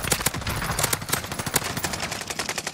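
Rapid automatic gunfire from Call of Duty Warzone crackles in dense overlapping bursts, loud and continuous for the whole stretch with no voices over it.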